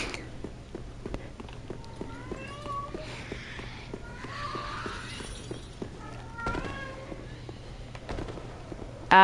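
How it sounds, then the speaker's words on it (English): A pet cat meows repeatedly, several drawn-out calls spread across the stretch, fairly close and clear over low background noise. "Pay no heed to the meowing. That's just my one cat wanting"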